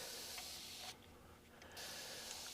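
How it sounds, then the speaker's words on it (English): Isopropyl alcohol spraying from a squeeze-trigger spray container onto gravel ground cover, heard as a steady soft hiss that drops away for a moment mid-clip before resuming. "You squeeze it, and it sprays, and when you let go, it sprays, continues spraying."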